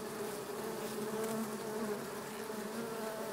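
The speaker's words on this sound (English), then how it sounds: "That's the good cluster of bees there." Honeybees buzzing at night as a colony is removed from a water main access, a continuous low droning hum of many insects close by, steady and fairly quiet with no talking.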